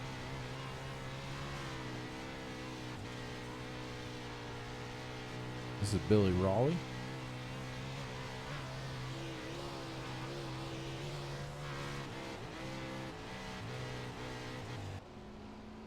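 Dirt track sprint race cars run steadily around the racetrack, a continuous distant engine drone with one brief close pass rising and falling in pitch, while a voice talks over it.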